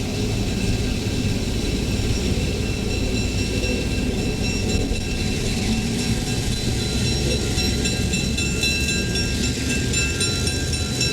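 A May 1972 Amtrak Abraham Lincoln passenger train leaves the Menominee River Bridge near Milwaukee, giving off a constant loud rumble with steady wheel and rail roar and faint high whines throughout.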